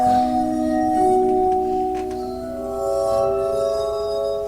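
A glass armonica rings out with sustained, pure glassy tones, several overlapping notes held and shifting slowly in a continuous ethereal hum, close and fairly loud with no voices.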